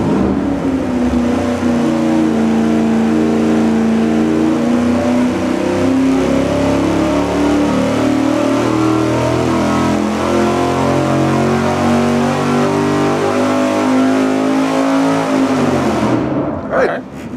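A carbureted engine revs on a dyno with no carburetor spacer: a loud, steady pull with the pitch climbing gradually for about sixteen seconds, then cutting off abruptly into a brief quiet tail.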